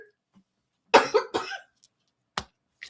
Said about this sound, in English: Sorry for the coughing and hacking in your ears